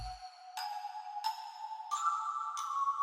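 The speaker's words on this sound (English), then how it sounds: "Then we also got a Celeste right here," A bright, bell-like celeste melody of sustained tinkling notes, changing pitch every half second or so, clean and alone.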